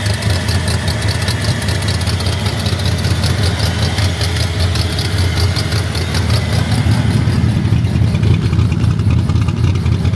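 A 1965 Shelby's engine running at idle, a loud, close, steady rumble with a fast even pulsing that holds throughout, with no voices over it.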